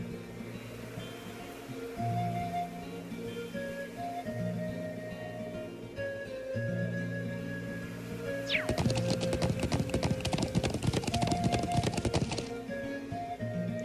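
Rapid clip-clopping hoofbeats of a horse in the video game The Legend of Heroes: Trails of Cold Steel start partway through and keep a quick, steady rhythm over continuous background music.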